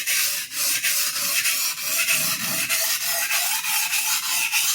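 A knife edge is drawn repeatedly across a coarse whetstone in steady, rhythmic rasping strokes, close and even, roughly three per second, with no talking.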